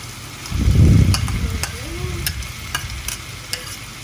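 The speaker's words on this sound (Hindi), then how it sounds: "ये हम अंदर डाल देंगे और इनको थोड़ी देर पका लेंगे।" Small chopped medium-sized potatoes tipped into a hot pan for a Spanish omelette, a close burst of sizzling and stirring followed by softer frying with scattered clicks of a utensil.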